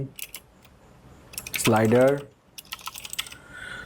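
Light, rapid keystrokes typing code on a computer keyboard, quiet clicks in quick bursts around a short stretch of talking by a man.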